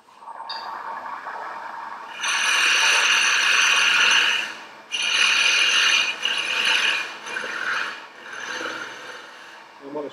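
Lathe cutting the top of a threaded acorn, a loud, steady, close scraping and whirring that runs for a few seconds, pauses briefly, then resumes and stops near the end, without talk.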